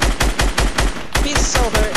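Rapid automatic gunfire in the Fortnite battle royale game, about ten loud, evenly spaced shots in a fast burst, close and punchy, with no voices.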